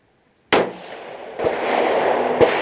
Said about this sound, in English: That is the first round out of the rifle.